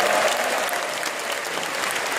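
A large convention-hall audience at a Christian business conference in Jeju claps loudly to welcome a pastor to the stage, a dense, continuous ovation that stays strong from start to finish with no speech over it.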